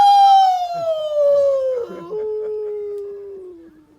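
A voice imitates a long, mournful hound dog howl, a single sustained wail that slowly slides downward in pitch, loud and close.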